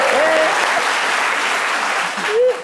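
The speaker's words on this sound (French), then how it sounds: "Applaudissez pour les Sanogo." Applause from a studio audience on a live midday talk show, a steady dense patter of many hands filling the whole stretch at close range, with brief vocal tones from a presenter riding over the start and end.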